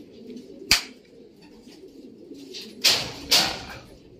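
Pigeon calls come in short bursts at a pigeon loft: one sharp call early, then two more close together later, over quiet outdoor background.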